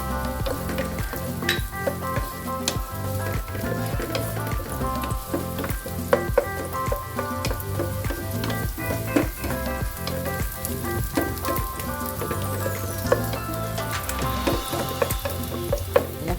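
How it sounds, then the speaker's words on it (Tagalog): Onions fry in a pan for a squid and cabbage dish, a steady dense sizzle punctuated by rhythmic scraping and stirring strokes, close and fairly loud, with no talking. "isunod na natin yung sibuyas na natira natin"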